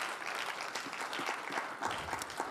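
A church congregation claps steadily and fairly loudly, a dense continuous wash of applause with no speech over it.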